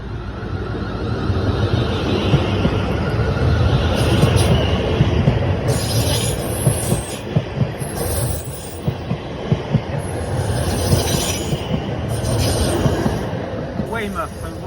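A Class 444 electric multiple unit passes close by, a sustained rumbling roll of wheels over rail with recurring high squeals and clicks, steady and loud for the whole stretch.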